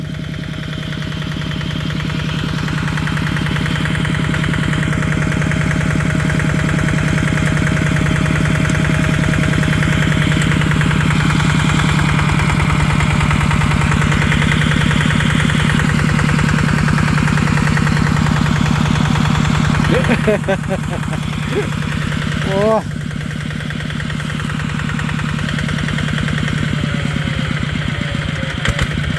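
A Kubota RT155 walk-behind tractor engine runs steadily in a muddy rice paddy where it is stuck, a loud, close, throbbing chug that holds for the whole stretch, with a brief voice and a few clanks near the end.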